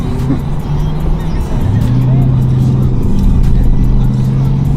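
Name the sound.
street traffic, cars passing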